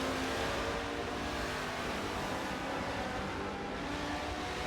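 A Lamborghini race car engine roars in Forza 7 at Watkins Glen, a loud, steady, dense drone that holds nearly level throughout with no one talking.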